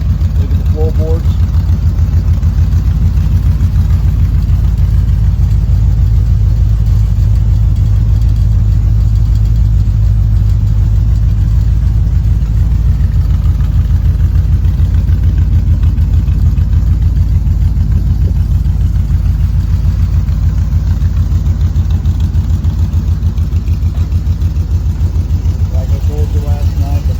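A 1955 Chevy engine idles steadily and loudly for the whole stretch, a low even rumble with no revving, while someone talks over it.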